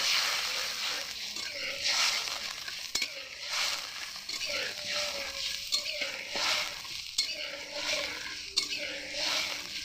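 Fried spice masala with cardamom sizzles in a pan as a little water goes in, steady hissing under scraping stirs and occasional clinks of a utensil against the pan.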